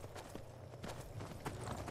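Horse hooves walking in Skyrim, a soft, steady clip-clop rhythm of several hoofbeats, faint and low in level.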